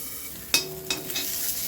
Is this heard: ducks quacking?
no